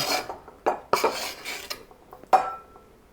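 Cooked potatoes being spooned into a bowl for a cold beet soup, a few sharp metal utensil clinks and scrapes against the dish with quiet gaps between them, close by and without speech.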